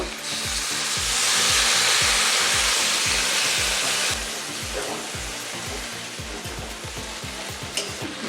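Desi chicken sautéing with spices in a Bengali-style curry gives a loud, steady sizzle, broken by a regular rhythm of spoon strokes scraping the pan close up, with no talking.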